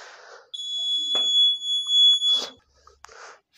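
A buzzer driven by an Arduino Uno in smart shoes for blind people, paired with an ultrasonic sensor, sounds a steady piercing tone for about two seconds, loud and close, with brief noises before and after.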